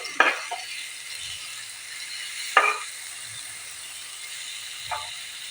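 Spices, onion and finely chopped tomato fry in a pan with a steady low sizzle, broken by three sharp scraping stirs spaced a couple of seconds apart.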